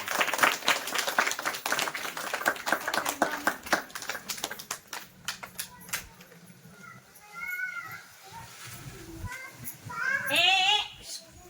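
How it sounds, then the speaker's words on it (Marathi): Children clap together at a primary school's Jijau Jayanti celebration, a burst of sharp, uneven hand claps filling the first half before thinning out, followed by scattered high chirping voices and chatter nearby. "अरे टाळ्या वाजव"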